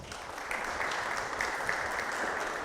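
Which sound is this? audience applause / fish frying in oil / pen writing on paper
audience applause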